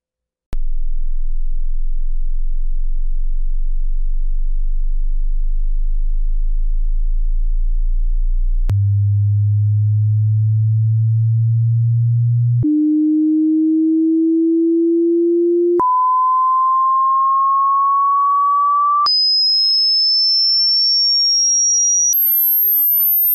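A steady sine test tone steps upward in pitch from a deep 20 Hz hum toward a piercing 20,000 Hz whine, each plateau holding several seconds, loud and alone with no voices.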